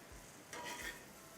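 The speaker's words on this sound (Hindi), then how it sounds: "ये जो साइड पर जम रहा है इसे कुरेद लीजिए, खुर्च दीजिए रादर" Paneer stuck to the sides of a hot pan is scraped with a utensil, a short close scrape over a faint sizzle, quiet and brief.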